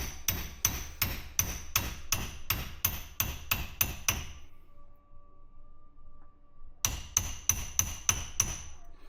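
A hammer taps a stiff part into a fire-damaged MK1 Ford Escort van in a steady run of sharp metallic blows close by. It pauses briefly, then another quick series of taps follows.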